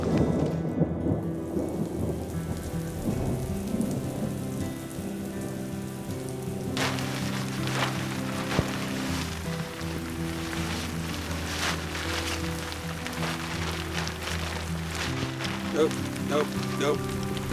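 Rain pours outdoors during a thunderstorm, a dense continuous patter with rolling thunder and a low rumble throughout, voices talking intermittently beneath.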